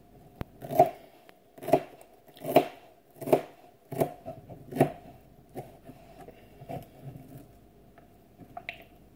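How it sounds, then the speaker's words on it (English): A knife cuts through the tender white part of a celery stalk in about eight crisp, evenly spaced chops close up, slowing and growing softer toward the end. "With the real white part, and always the part like this, that's real tender, I cut it off."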